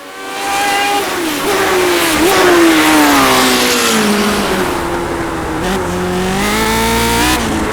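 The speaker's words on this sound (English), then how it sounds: "Big lockup on the left front there." A Lotus 79 race car in iRacing screams at high revs and then drops in pitch as the left front tire locks up under braking, a loud, close engine whine with gear shifts and no talking.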